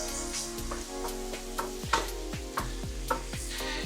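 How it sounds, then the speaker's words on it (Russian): Pork belly frying in a pan until lightly browned, a steady close sizzle with periodic stirring scrapes and soft clicks of the utensil, no voices. "Сейчас немножечко это пережарится, нам сильно жареное не надо, а слегка румяного цвета."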